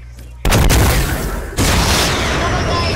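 An RPG rocket launcher fires in a video game, an abrupt loud blast followed by a roaring rush that surges again partway through, close and full-bodied with no pause.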